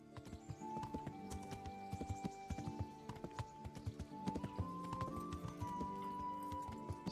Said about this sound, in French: là il y a des chevaux au moins